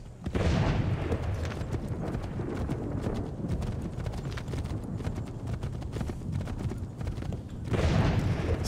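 Hooves of a horse clatter in a steady, close clip-clop rhythm during the Bunker Hill battle in Assassin's Creed 3, with distant booms, gunfire and a brief whinny mixed into the busy game soundscape.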